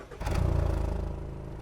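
Startup of a compact SUV's 2.5-litre naturally aspirated engine: a brief crank, then the engine catches into a loud, throbbing idle with a sporty exhaust note, steady and close.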